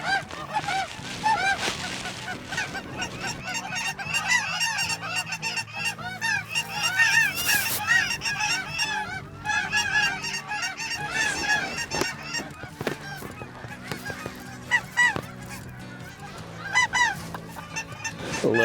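A flock of geese honking during a dry land goose hunt in the Texas Panhandle, dense overlapping calls sounding loud and continuous, some near and some farther off.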